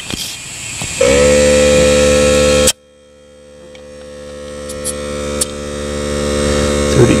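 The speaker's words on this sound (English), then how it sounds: "So we got the compressor going right now." An air compressor runs loud and steady with a droning motor hum while inflating a leaking car tire that has a nail in it, then cuts off abruptly and a quieter, lower hum carries on alone.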